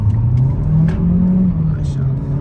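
Engine of a 2023 Changan UNI-V car revving and pulling away from a standstill, a steady low drone that rises slightly in pitch, heard close from inside the cabin, with a brief voice over it.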